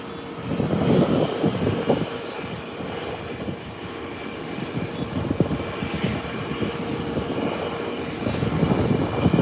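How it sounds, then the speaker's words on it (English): An ATR turboprop airliner heads out of Kingston, Jamaica, a continuous engine roar with a steady drone that rises and falls slightly as it climbs away. The sound is fairly loud and heard alone. "ATR heading into Kingston, Jamaica. Up and away."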